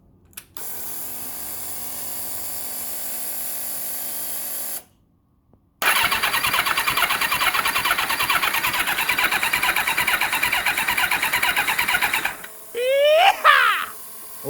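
A Kawasaki ZXR turbo motorcycle engine under rebuild cranks in a long steady whir, pauses, then cranks again with rough broadband churning for several seconds before falling quiet, followed by brief clatter at the end.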